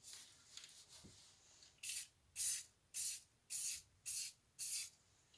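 Six short, sharp hisses from a spray can of Rustoleum gloss apple red as a toy gun is painted, evenly spaced and close, after a quiet stretch with a small knock.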